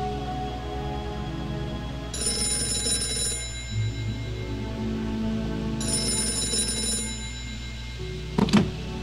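A cell phone rings in the video game Gray Matter, two bursts of electronic trilling about four seconds apart, clear over a steady low music bed, with a brief sharp click near the end.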